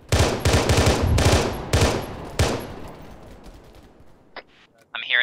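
Sniper rifle fire in the military shooter Arma 3: several loud, sharp reports in quick succession with a long rolling echo tail, followed by quieter clicks and a brief burst near the end.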